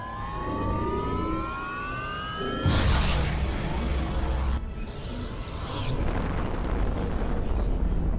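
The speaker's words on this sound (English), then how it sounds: "When finished, you can fire the Annihilator at another planet." The Annihilator weapon firing at a planet in the strategy game Planetary Annihilation: Titans: rising, siren-like charging tones give way to a sudden loud roaring blast that rumbles on, with a narrator talking over it.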